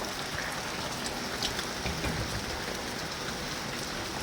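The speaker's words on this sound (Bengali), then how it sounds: "কি জোর এবার মুষলধারে বৃষ্টি নেমে গেছে" Heavy monsoon downpour at midday in Bengal, a dense, steady hiss of rain pattering on surfaces, constant and moderately loud with no voices.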